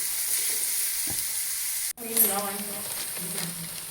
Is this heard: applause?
no